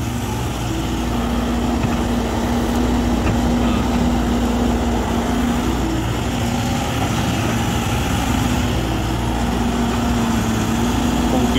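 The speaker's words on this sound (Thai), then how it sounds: "เครื่องยนต์ Isuzu ครับ4สูบลำเป็น K7V ครับ" An Isuzu four-cylinder diesel engine in an SY135 excavator runs steadily with a constant rumbling drone and mechanical hum, unchanging throughout with no voices.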